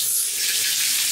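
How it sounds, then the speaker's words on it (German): Tap water runs into a bathtub, a steady, close, unbroken hiss of pouring water with no voices. "Und jetzt gehe ich auf jeden Fall wieder baden, ich mache mir direkt schon mal Wasser rein."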